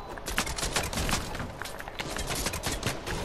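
Rapid gunfire crackles through a Fortnite match, dense bursts of shots layered close together and fairly loud, with faint voices mixed underneath.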